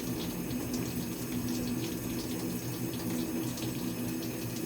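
A faucet runs steadily, filling a film-processing tank with water for an Arista E-6 development setup, producing a continuous, moderately quiet rushing stream without voices.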